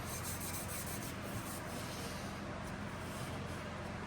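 Scotch-Brite pad scrubbing a surface after chemical stripper, a steady continuous rubbing texture that stays close and fairly loud throughout with no talking.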